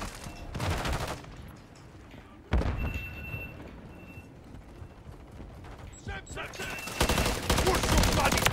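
Gunfire bursts and clattering weapon mechanics from the Modern Warfare 3 multiplayer shooter, loud clusters of shots separated by quieter stretches, with a busy combat mix underneath.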